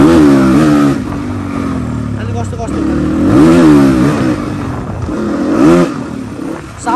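A motorbike with a suspected electrical current leak revs up and down in several surging waves, loud and close, while someone talks over the engine.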